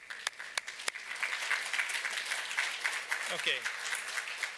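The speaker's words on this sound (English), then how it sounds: "Yes, a round of applause," Applause from a conference audience in a hall welcoming an inspector from the China National Intellectual Property Administration, a steady, moderately loud wash of clapping with a brief spoken word near the end.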